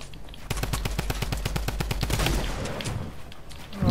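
Rapid automatic gunfire in Fortnite, a video game, bursts of close, loud shots rattling off in a fast rhythm for several seconds, then giving way to a rougher, denser crackle of fire.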